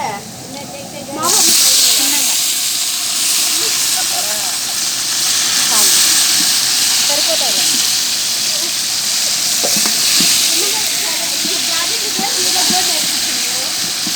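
Tomatoes hit a hot pan of onions and oil with a sudden loud hiss that settles into a steady, close sizzle with scattered pops, while a voice talks over it.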